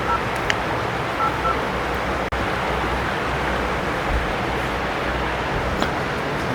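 A telephone keypad sends a few short, thin dialing tones, faint against a steady noisy hiss, with no speech over them.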